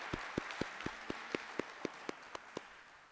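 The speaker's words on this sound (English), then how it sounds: "let's give Councilman Jared Williams a round of applause" Slow, evenly spaced claps at a public forum on police oversight, about a dozen distinct hand claps in steady rhythm, fairly close over a faint crowd murmur.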